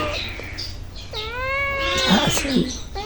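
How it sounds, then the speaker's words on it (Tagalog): Cats meowing and caterwauling close by in a home kitchen, drawn-out rising and falling wails that overlap, with a steady background hum and faint talk beneath. "Maiingay naman ang mga pusa."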